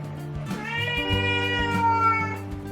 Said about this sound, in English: Sorry, my cat's meowing.